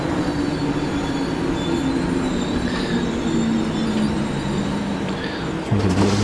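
A German S-Bahn commuter train runs steadily on rails in the video game Transport Fever 2, a continuous close rumble with faint wheel squeal that swells slightly near the end.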